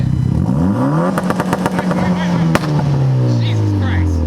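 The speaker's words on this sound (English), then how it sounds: "I'm about to give y'all a little rev, though." Mitsubishi Evo X engine with a fixed misfire revving hard, rising and falling through loud sustained revs with popping crackle midway, people talking and exclaiming over it.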